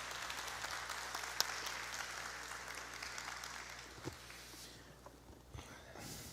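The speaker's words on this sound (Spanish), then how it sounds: "Los recibimos con un fuertísimo aplauso." Applause from an audience greeting guests at a presidential dialogue event, a quiet, distant wash of clapping that thins out toward the end.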